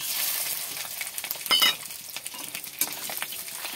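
Fish roe coated in salt and turmeric hits a pan of lightly fried onions and sizzles steadily, with scraping stirs, a clatter of utensil on metal and a few popping bursts.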